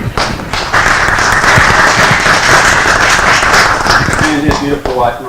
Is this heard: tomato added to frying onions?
no